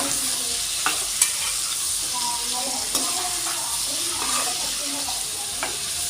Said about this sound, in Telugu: ఇలా ఉప్పు పసుపు వేసుకొని బాగా కలుపుకొని